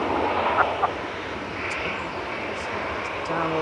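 A KLM airliner at Manchester Airport gives off a steady, moderate engine rumble with a soft whine, with brief voices audible early on.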